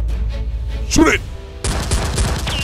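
Toy Nerf guns firing during a mock battle, with a flurry of rapid, close popping shots and clattering bursts, while excited voices shout over them.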